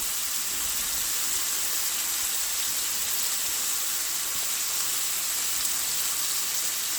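Cabbage searing in a hot pan, a steady, close, even sizzle and hiss throughout with no talking.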